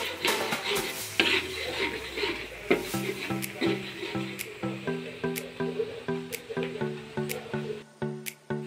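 Free-range chicken pieces frying in oil and stirred in a pan, close sizzling with repeated scraping, squishing stirs in an uneven rhythm, each stroke followed by brief crackle.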